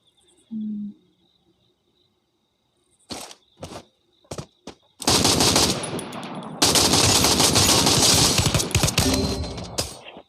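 Automatic gunfire in a video game: after a quiet stretch with a few isolated sharp shots, loud sustained machine-gun bursts roar for several seconds, close and dense.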